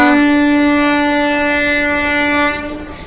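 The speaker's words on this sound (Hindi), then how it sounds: "यही में रेलवे स्टेशन है ना तो खर गाड़ी की मतलब ट्रेन की आवाज़ है" A train horn near a railway station blares loud and close in one long sustained chord, then fades slightly and roughens toward the end.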